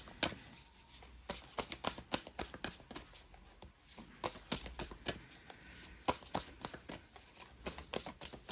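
Tarot cards being shuffled and drawn by hand, a steady run of close, crisp riffling flicks and slaps with short pauses between bursts, no voices.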